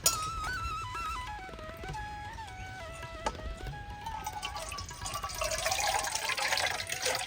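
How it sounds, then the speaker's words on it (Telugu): Coconut water pours from a freshly opened coconut into a container, a rising gurgling trickle that grows fuller and splashier as the vessel fills, close and alone. "కొబ్బరి నీళ్ళు ఎలా పడుతున్నాయి చూడు."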